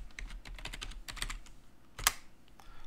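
A computer keyboard clacks close by in quick runs of keystrokes as a terminal command is typed, with a brief pause and a sharper final key press near the end.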